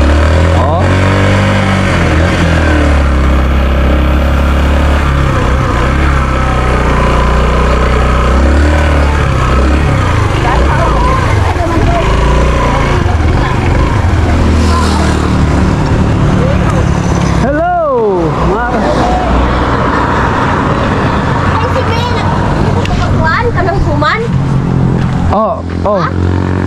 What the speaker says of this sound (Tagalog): Papasok po ito. Ito yung paborito ng ating kaibigan na motor.